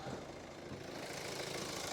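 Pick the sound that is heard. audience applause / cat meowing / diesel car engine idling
diesel car engine idling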